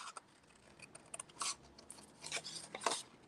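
Scissors cut out stamped paper flowers in short bursts of crisp snipping and rustling paper, close and fairly quiet.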